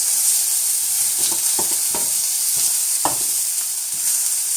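Zucchini and other vegetables searing on a hot grill pan beside chicken, with a loud continuous sizzle and a few soft scrapes and taps as pieces are flipped one after another; no talk.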